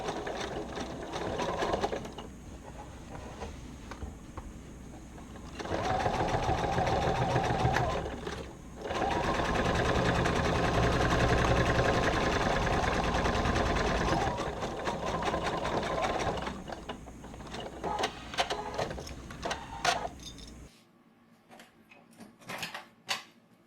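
A sewing machine stitches the lining of a shoulder bag in close, loud whirring bursts, with a few short pauses between seams and a stop near the end.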